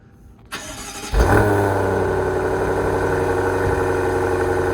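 An Alpina B8 V8 fires up through its Alpina exhaust: a short starter whir, then a loud catch about a second in that settles into a steady, rumbling idle close by.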